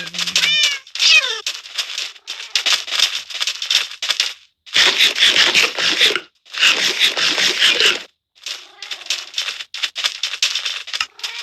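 Repeated synthetic Minecraft cat meows and yowls in bursts, separated by short silences, with scratchy scraping sounds mixed in; no one speaks.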